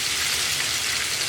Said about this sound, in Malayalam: മീൻ എണ്ണയിലേക്ക് ഇട്ടതിന് ശേഷം സ്റ്റവ് ഒരു മീഡിയം ഫ്ലെയിമിൽ വെച്ച് നല്ലപോലെ വറുത്തെടുക്കണം